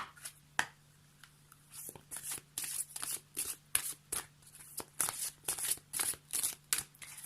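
A deck of oracle cards, Les murmures de Ganesh, being shuffled by hand at close range: a run of quick crisp riffling bursts in a steady, repeating rhythm, with no voices.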